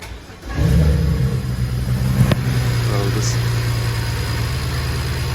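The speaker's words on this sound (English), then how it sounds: "It doesn't sound like it's down much on compression and cranking" A Nissan S14 engine cranks over during a compression check, starting abruptly into a sustained, even mechanical drone that continues steadily, close and loud, with people talking over it.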